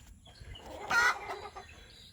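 Backyard chickens and a big white rooster with baby chicks around, giving soft clucks and one louder squawking call in the middle, close by and otherwise fairly quiet.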